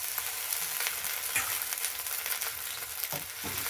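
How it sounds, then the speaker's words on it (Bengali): Onions with ginger-garlic paste fry in a pan for a village-style desi chicken curry, a steady broad sizzle with soft scraping stirs that come through now and then, close by and continuous, with no voices. "এবার আদা রসুন বাটাটা পেঁয়াজের সঙ্গে একটু নাড়াচাড়া করে নেবে"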